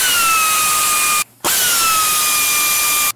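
A power drill spins out 12 mm bolts during a Subaru engine removal, giving a loud, steady whine that sweeps slightly downward, cuts out briefly, then runs again just as strongly.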